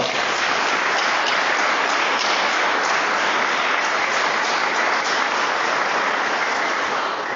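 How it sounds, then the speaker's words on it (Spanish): A church congregation bursts into loud, sustained applause, a dense wash of clapping that holds steady for several seconds with no voices breaking through. "Y dan un fuerte aplauso al Señor."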